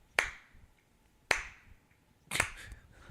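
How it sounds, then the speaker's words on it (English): Three crisp finger snaps, close and distinct, spaced roughly a second apart, with the last one slightly doubled and fuller, in a quiet room. "I'm snapping."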